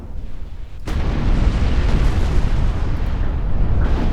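A warship blows up and goes under in the naval strategy game Ultimate Admiral Dreadnoughts: a sudden loud blast followed by a sustained, heavy rumbling roar that stays dense and low for several seconds.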